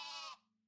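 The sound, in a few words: speaker imitating a goat bleating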